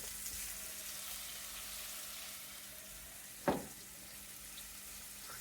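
Meatballs brown in a hot pan with a steady, soft sizzle of frying throughout, broken once by a brief sharp clatter midway.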